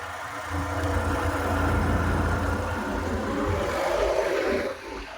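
Honda Activa scooter engine droning steadily while riding on a road to a hospital, a continuous mid-level motor hum with low rumble that fades slightly near the end.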